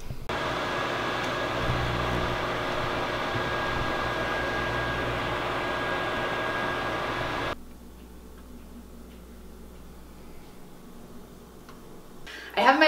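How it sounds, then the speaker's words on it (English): A microwave oven heats frozen Daily Harvest food with a steady hum and whir for several seconds, then cuts off to a quiet room before a faint clatter at the end. "And then just because this is so hard, I'm gonna microwave it"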